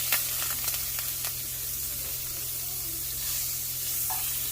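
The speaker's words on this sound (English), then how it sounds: "I'm just adding some regular butter, and I'm going to let that melt" Regular butter melting in a pan on the stove, a steady close hiss of sizzling with a few light taps early on, no one speaking.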